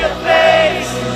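A huge record-breaking concert crowd in Rio cheers at a show, a dense, loud roar of voices with a swelling yell in the middle.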